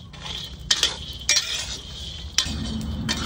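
Raw peanuts roast dry in a pan for a village-style okra fry. Scraping stirs of a spatula strike at intervals over a steady, soft hiss and rattle of the nuts shifting against the hot metal.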